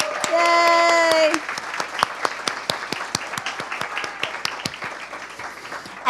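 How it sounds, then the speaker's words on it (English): Audience applause for the two co-hosts of a national student competition event: a dense burst of clapping with a brief tonal chime at the start, then settling into scattered, distinct claps that taper off over several seconds. "Kevin and Angie, a little round of applause for both of you."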